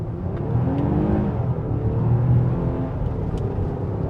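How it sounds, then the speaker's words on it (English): A 2025 Nissan Pathfinder Platinum V6 SUV's engine revs hard and steadily as it accelerates from a standstill in sport mode with wheel spin, a loud sustained roar with a low rumble and rising whine, close by. "off the line in sport mode, on the gas."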